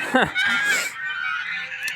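Geese on an autumn homestead in Russia on a rainy day honk in a short loud burst at close range, followed by softer calls and cackling.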